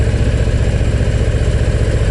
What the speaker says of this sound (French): moi je me contente du bruit du moteur, du gros 117 cubic inch, 1923 cm3